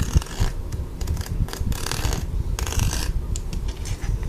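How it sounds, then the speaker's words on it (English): Patterned tape being cut straight across at the half-inch mark along a ruler on a cutting mat, a steady close scraping and rasping of a blade dragging through tape over several seconds, with soft irregular scratches and no talking. "you put your ruler at the 1/2 inch mark and then cut straight across"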